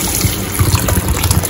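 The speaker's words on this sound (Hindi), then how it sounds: "एक दो मिनट सेकने के बाद मैं इसमें डाल रही हूँ पानी" Water pours steadily into a cooking pan of sautéed vegetable curry, a continuous close gushing and splashing with no voices.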